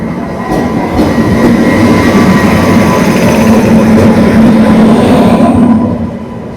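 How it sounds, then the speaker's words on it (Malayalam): A train pulls into a station, its loud continuous rumble and wheel noise filling the whole stretch, holding steady before easing slightly at the end. "നമ്മളെ ട്രെയിൻ ഇതാ വന്നോണ്ടിരിക്കുകയാണ്."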